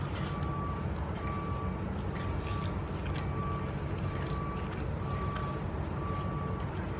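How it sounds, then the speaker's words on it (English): A truck's reversing beeper at a truck stop sounds in evenly spaced single tones, thin and distant above a constant low rumble of traffic or engine noise. "You can hear a beeping noise because there's like a truck stop across the street"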